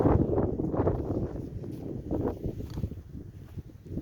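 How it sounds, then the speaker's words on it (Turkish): Steady cold north wind buffeting the microphone on a cattle farm, a broad low rumble with gusty swells and rustling, continuous through the clip. "Belki de rüzgarın sesini duyuyorsunuzdur."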